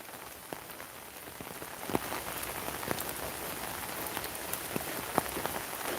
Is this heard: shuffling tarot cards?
no